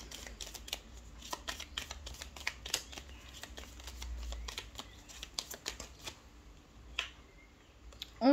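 Tarot cards being shuffled by hand, a steady run of crisp, close riffling flicks repeating for several seconds over a quiet room, with no voices.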